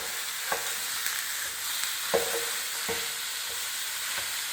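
Meat sizzling in a hot frying pan as it is flipped, a continuous close hiss broken by a few sharp scraping clicks from the utensil.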